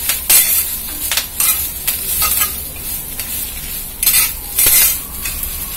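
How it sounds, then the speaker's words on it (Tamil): Vegetables being sautéed in a pan, loud close stirring with repeated spoon scrapes and clatters against the metal over a soft sizzle, no talking. "இதை வதக்கணும். ரொம்பவும் வதக்க வேண்டாம்."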